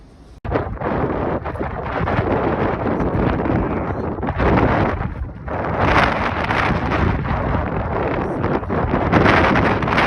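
Strong wind blasts outside a yurt shelter on the Pacific Crest Trail, a loud, steady roar of gusts buffeting the microphone that swells and dips briefly, with no voices.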